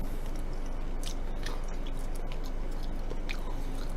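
Someone chews braised pork trotters (jokbal), working through the soft, fatty skin with quiet, close, wet squishing and smacking bites in an irregular rhythm, with no talk.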